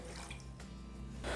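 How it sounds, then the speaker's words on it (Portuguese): Roughly 200 ml of water pours into a kitchen pan to start a plum syrup, giving a steady, close, continuous splashing stream about a second and a half long that swells louder near the end, with no talking. "Eu vou colocar aqui na panela 200 ml de água"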